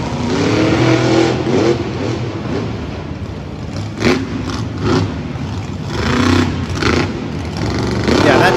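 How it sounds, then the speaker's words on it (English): A struggling monster truck engine at a Monster Jam arena show in San Diego sputters and revs in uneven surges, loud and continuous under crowd noise, with commentators talking over it throughout. "that truck is sputtering a lot. There's something wrong with that motor"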